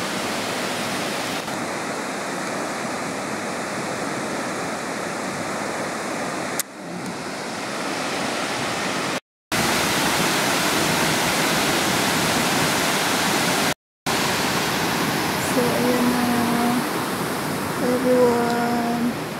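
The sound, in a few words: water rushing at Tai Tam Reservoir dam after rain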